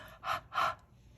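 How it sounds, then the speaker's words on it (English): Two soft, breathy exhalations are blown onto a rubber stamp to re-moisten Stampin' Write marker ink, each about a quarter second long, close and fairly quiet, with no talking. "I'm going to use my breath"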